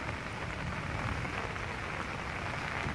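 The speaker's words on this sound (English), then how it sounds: "we just had a nice surge of heavy rain" Heavy rain pours steadily onto the ground and paved surfaces, a dense and even hiss with no pauses or voices.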